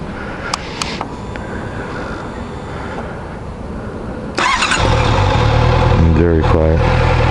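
A 2014 Honda CBR650F motorcycle engine cranks and fires after a quiet stretch, then settles into a loud, steady idle close by, with a brief rise in revs near the end.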